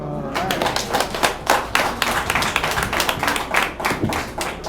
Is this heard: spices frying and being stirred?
no